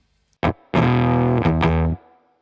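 A Walrus Audio Eons fuzz pedal on a Jaguar electric guitar gives a short plucked note, then a sustained, heavily distorted, spitty fuzz chord with a couple of re-struck accents, loud and close.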